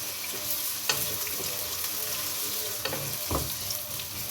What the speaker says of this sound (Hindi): प्याज को इसमें फ्राई कर लें।